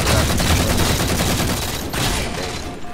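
Sustained bursts of assault rifle fire in the Halo video game, loud and continuous with rapid overlapping shots, easing slightly toward the end.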